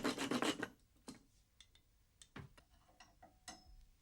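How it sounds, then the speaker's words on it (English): Rasping saw strokes on a pair of chest expanders, a burst of rapid scraping strokes up front, then scattered lighter scrapes and taps, close and fairly quiet with no talk. "A little sawing work on the chest expanders."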